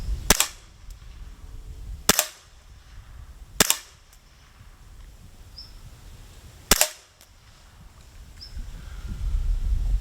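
A Glock 17 BB gun fires four sharp, loud shots at spinning targets, spaced irregularly across the span, each crack followed by a brief ring, with quiet handling noise between.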